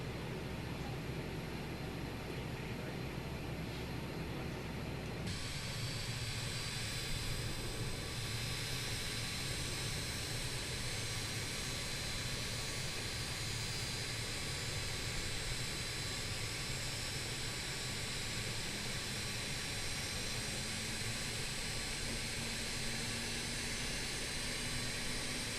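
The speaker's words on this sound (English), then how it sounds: "Whisper jet spooling up." Jet engines of a BAE 146 airliner in Microsoft Flight Simulator spool up, a broad loud roar that jumps in intensity after a few seconds and then holds as a steady whine and rumble.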